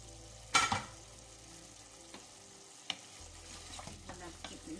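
Beef and white cabbage fry in a pan with a soft, quiet sizzle, broken by a sharp scrape of stirring near the start and a few faint clicks of the utensil afterward.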